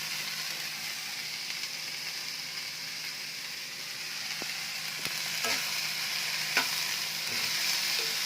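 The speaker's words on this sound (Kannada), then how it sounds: "ನೋಡಿ ಚೆನ್ನಾಗಿ ಫ್ರೈ ಆಗ್ತಾ ಇದೆ" Mixed vegetables and beans fry in a pan with a soft continuous sizzle, punctuated by scattered light scraping and tapping of stirring, fairly quiet and without speech.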